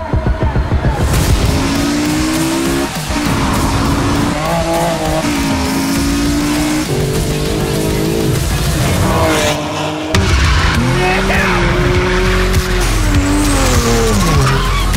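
A BMW M4 is driven hard through Los Angeles city streets, with loud, close tire squeals rising and falling over a constant roaring engine, repeated skids strung together across the run.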